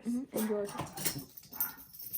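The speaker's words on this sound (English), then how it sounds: "I apologize if you can hear our dogs barking." Household dogs bark, whine and yip indoors close by, with short whimpering calls under a person talking.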